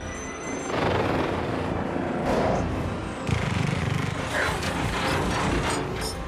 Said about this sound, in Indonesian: Sebuah helikopter datang mengejarnya.